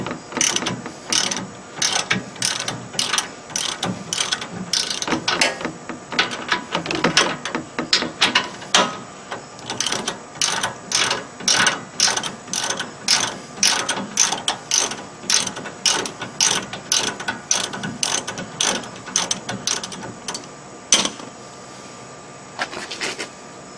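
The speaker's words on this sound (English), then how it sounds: "That's what you get for not paying attention to which way the ratchet's set" Ratchet wrench clicking rapidly in repeated bursts while brake parts are loosened, sharp close mechanical ticks in quick runs separated by short pauses, with no talking.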